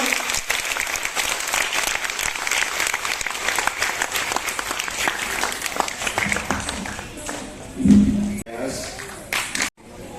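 Applause from the audience at a Siva Shakthi Dhyana Yoga Trust award event, with sustained, dense clapping heard loud and close for most of the stretch before it breaks off near the end.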